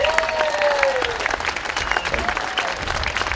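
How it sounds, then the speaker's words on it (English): At a 100th anniversary ceremony for the Philadelphia 2nd Alarmers, the crowd claps steadily in a dense burst of applause, with faint voices mixed in beneath the clapping. "So give them a round of applause, please."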